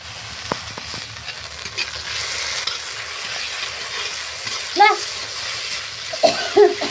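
Lentils fry in oil with ginger paste in a pan, a low sizzle under intermittent stirring clicks and scrapes, with a few louder knocks toward the end.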